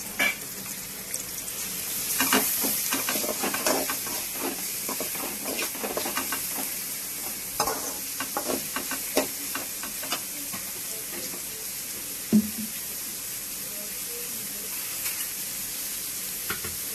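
Two medium-sized chopped onions sizzle in hot oil for a soya chunk curry, a steady frying hiss broken by repeated scraping and clacking stir strokes close to the microphone.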